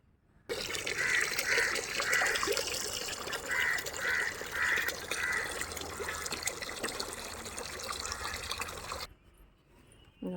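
Water runs steadily from a tap into a container while liquid fertiliser for garden plants is mixed, a continuous close splashing fill that stops abruptly near the end.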